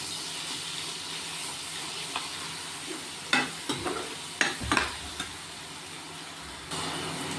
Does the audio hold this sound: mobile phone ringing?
no